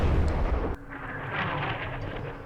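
Mortar fire in the wargame Campaign Series Middle East: a heavy, booming blast opens loud and close, then gives way to a quieter rumbling, crackling tail that rolls on for a couple of seconds with no talk over it.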